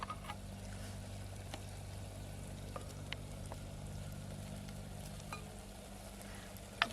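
Tomato dropped into a frying pan of mung dal and spinach cooking in a village kitchen, giving a steady, moderate sizzle with a low hum beneath and a few faint clicks, no voices.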